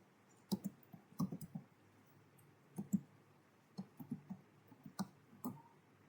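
Sharp mouse clicks sound in software while a ZnS band gap is worked out from DRS UV-Vis data. They come singly and in quick pairs, about a dozen over several seconds, close and crisp over a faint steady hum, with no talk.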